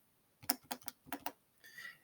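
Calculator buttons pressed in a quick run of about six close, crisp taps, followed by a softer, brief electronic-sounding blip; no talking.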